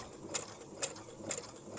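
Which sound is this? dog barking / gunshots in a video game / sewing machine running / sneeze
sewing machine running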